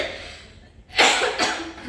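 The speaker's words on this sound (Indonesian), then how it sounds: "Ibu kok batuknya tambah parah" A woman coughs once, fairly close, a short harsh burst with a second weaker cough right after, in a quiet room.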